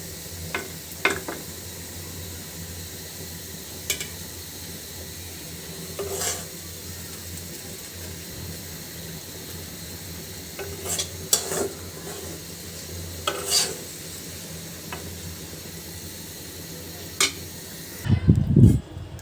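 Food fries steadily in a pan for a Bengali fish curry with tomato, a constant soft sizzle broken by occasional scrapes and clinks of stirring, ending in a louder clatter.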